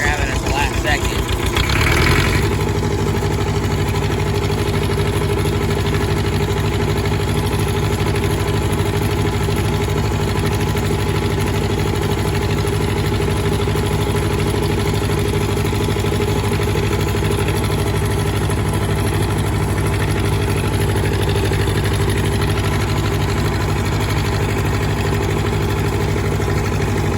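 A tractor engine runs steadily at a loud, constant idle-like drone for nearly half a minute, with heavy low rumble and vibration throughout; on a farm with goats.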